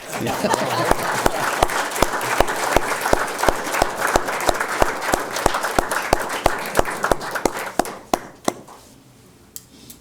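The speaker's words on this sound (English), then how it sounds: "That deserves an applause." At a city council meeting, the audience claps for a police officer. The clapping starts full, then thins to scattered, distinct claps that fade out toward the end, with some voices mixed in.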